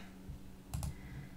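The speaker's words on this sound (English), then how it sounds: "So, if you hear me clicking about, that's why." A couple of quick computer mouse or keyboard clicks land close together, faint and close against a quiet room hum, with no talk.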